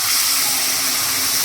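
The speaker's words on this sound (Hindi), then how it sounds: "अब फटाफट से उसके अंदर हम पानी डाल देंगे" Water is poured into a browned mixture in a cooking pan, giving a loud, even, bright hiss and splash that runs unbroken from start to end.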